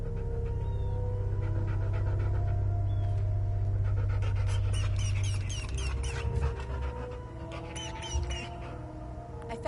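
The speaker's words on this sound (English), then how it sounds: "I found the poor pup whimpering alone in a house" Dog whimpering and panting in the video game Hell is Us, soft yelps and quick breaths over a steady low droning game ambience, with small chirpy squeaks toward the end.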